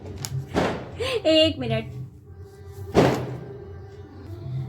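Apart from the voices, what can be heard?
firecrackers going off nearby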